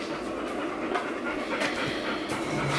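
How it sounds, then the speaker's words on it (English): Dog panting nearby indoors, a quick, steady rhythm of breathy huffs running continuously and fairly softly under a low room hum. "Sorry if you can hear the dog"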